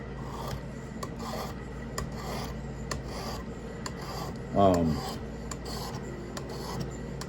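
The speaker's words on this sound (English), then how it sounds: "So go ahead and start sharpening this thing." Steel blade of a Buck 119 knife drawn along a sharpening stone, with repeated soft rasping strokes at a steady pace, quiet and close, plus a brief louder scrape midway.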